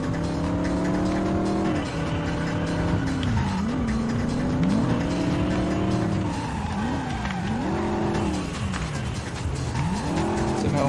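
A Chrysler 300C skids in the Driver Parallel Lines video game: rising and falling tire squeals and sliding screeches repeat over a steady engine drone, loud and continuous throughout.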